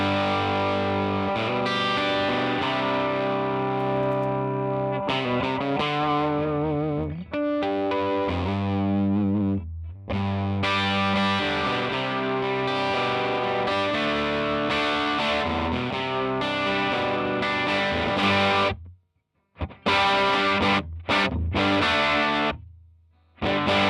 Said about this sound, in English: So as you can see, it's a pretty cool overdrive sound, right?